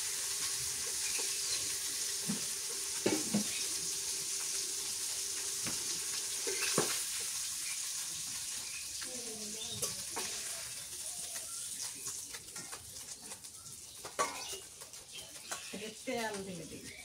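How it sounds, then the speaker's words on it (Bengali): Fish pieces frying in hot oil in a pan, a steady close sizzle running throughout with occasional stirring clatter and faint birds in the background. "করে মাছগুলো ভেজে নিলাম,"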